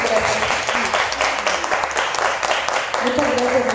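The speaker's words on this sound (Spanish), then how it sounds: "Un fuerte aplauso para ustedes" Loud, sustained applause from a crowd at a beauty culture course award ceremony, steady clapping filling the whole stretch.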